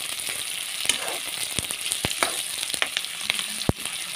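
Potatoes and onions frying together in a pan, a steady close sizzle with occasional sharp clicks and scrapes from stirring, no voices.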